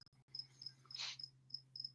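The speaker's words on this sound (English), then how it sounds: "There'll be crickets all over the place." Crickets chirp in short, repeated high trills at a quiet outdoor spot, faint and fairly distant, several bursts in quick succession with a low steady hum beneath.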